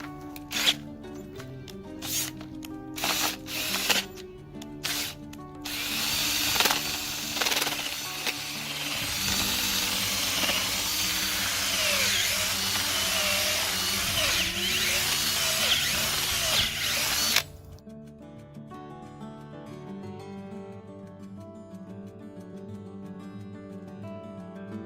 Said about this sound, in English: It drills holes in the ground, essentially.